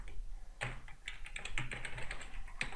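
Computer keyboard typing Python code, a steady run of close, distinct keystrokes with irregular spacing over a low background hiss, with no talking.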